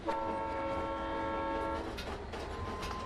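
A train on the White Pass mountain rail line sounds a long, loud horn near at hand, then wheels rumble and clatter on the track as the horn fades, with no talking.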